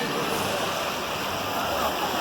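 Hot water waterfall pouring into a creek at the Boiling River in Yellowstone, a dense, continuous rushing roar, close and steady for the whole moment.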